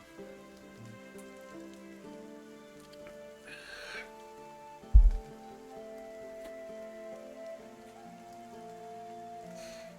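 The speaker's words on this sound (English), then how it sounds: "You see rain falling upon a destroyed city." Steady rain patters over a ruined, scorched city with background music and tones, a continuous even wash of drops with one brief low thump midway and no voices.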